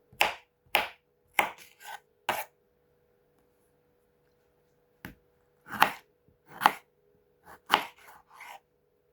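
Tomatoes chopped with a knife on a cutting board, sharp separate knocks in two bursts of several strokes with a pause between, close and clear with no talk.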